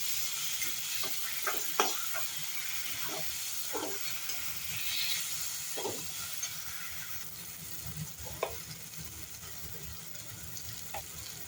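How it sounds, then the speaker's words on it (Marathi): Mashed roasted eggplant for bharit being stirred in a hot pan, with soft repeated scraping strokes over a low steady sizzle. "त्यामध्ये आपण मॅश केलेलं वांग टाकणार आहोत. आणि हे सर्व एकत्र करून घ्यायचं."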